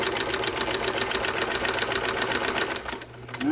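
A Sears sewing machine from 1971 runs in a fast, steady rhythmic stitching pattern close by, sewing saltwater lure skirts, slowing briefly near the end before starting up again.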